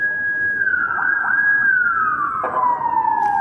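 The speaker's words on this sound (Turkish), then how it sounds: "Ambulans geldi lan." A wailing emergency siren, tagged by the listener as an ambulance arriving, sweeps up and down loudly and steadily in a street setting in Diyarbakır, with faint background noise.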